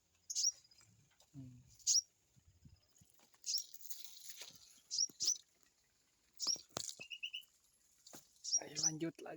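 Pet sooty-headed bulbuls chirp in an aviary, giving short, bright, scattered calls at irregular intervals over a quiet background, with occasional soft rustles and movement noises between them.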